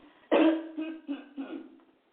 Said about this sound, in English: That was a clearing of the throat.